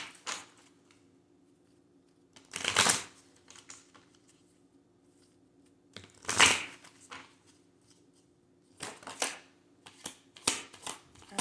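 Tarot cards shuffled by hand in a quiet room, several brisk riffling bursts of papery flutter separated by pauses, with a quick cluster of shuffles near the end and no talking.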